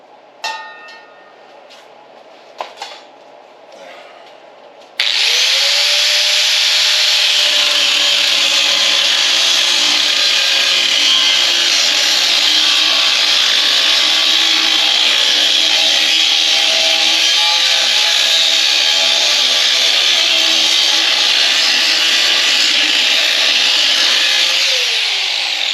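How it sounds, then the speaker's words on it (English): An angle grinder grinds an aluminum moonshine still, starting abruptly after a few light clanks and then running as a loud, steady, continuous whine for over twenty seconds with no talk. "Let me grind in that."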